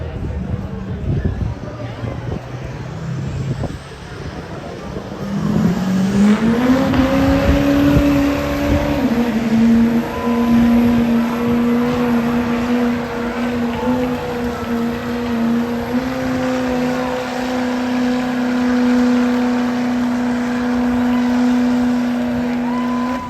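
A Chevrolet pulling vehicle at a county fair pull roars up from a rumbling idle into a loud, sustained, climbing engine drone that holds steady at high revs, with an announcer talking over it.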